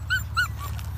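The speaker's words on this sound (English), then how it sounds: "There's 8 puppies out here." Puppies dumped in scorching heat whimpering close by: two short, high, rising whines in quick succession and a fainter third, over a steady low hum.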